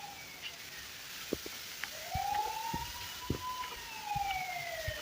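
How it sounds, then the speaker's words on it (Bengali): A police car siren in the Indian Bike Driving video game wails with rising and falling sweeps over a faint game background, punctuated by several sharp clicks and thumps, fairly quiet and without speech. "এই পাশে পুলিশের গাড়ি"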